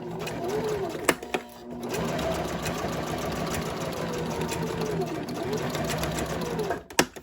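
Sewing machine stitching a zipper with a zipper foot for a crossbody bag, a steady mechanical whir running at slow speed with brief clicks near the start and end, fairly close and unaccompanied by talk.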